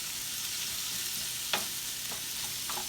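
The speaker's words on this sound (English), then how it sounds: "as these onions cook down" Onions sweat down on low heat in an Instant Pot, giving a soft, steady sizzle with a few faint clicks and stirs over the top.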